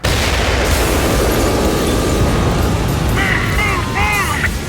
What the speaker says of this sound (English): The explosion tore open the stone wall.